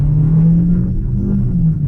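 A Changan CS75 Plus engine hums low and steady, rising slightly as it accelerates from 0 to 100 km/h, loud and close with a rumbling tone.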